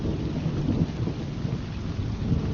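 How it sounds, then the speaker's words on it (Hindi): Heavy rain pours steadily in a Hindi cartoon storm while deep thunder rumbles low and continuous beneath it, with no voices present. "आसमान काला हुआ, बिजली कड़की और मूसलाधार बारिश हुई।"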